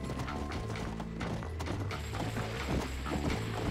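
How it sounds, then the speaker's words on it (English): Hooves clip-clop steadily as a horse rides through the open world of the video game Red Dead Redemption, the rhythmic beat blended into a dense wash of game music and ambience. "All right, let's get on this horse."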